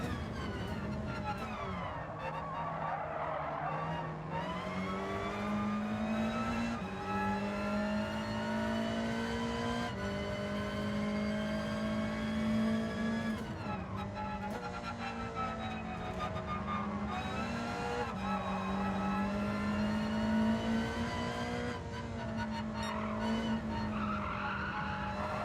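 Race cars in Gran Turismo 7 roar through a lobby race, engines droning and shifting pitch continuously with rising and falling revs, a dense sustained mechanical whine throughout.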